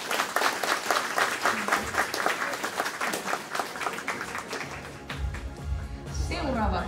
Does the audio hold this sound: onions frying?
no